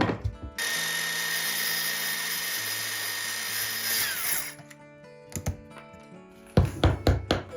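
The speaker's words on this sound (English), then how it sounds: "We rip the joist narrower on the circular saw and notch it to match the gap at the sill." A circular saw rips a wooden floor joist narrower during a flooring remodel, a loud sustained whining cut lasting about four seconds, then winding down, followed by a few sharp knocks and clatter.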